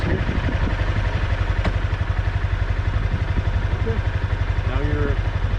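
A Honda CBR300 motorcycle running at idle close by, a steady rapid low putter with an even pulse, a brief click partway through and someone talking over it.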